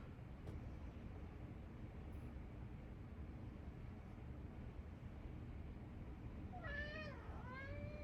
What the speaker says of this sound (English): I don't know if you guys can hear that, but that's my cat, Elijah.